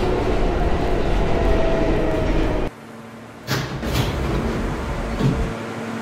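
A simulated L subway train running in a subway driving video game, giving a steady loud rumble that drops abruptly partway through, then builds again with brief higher-pitched squeals.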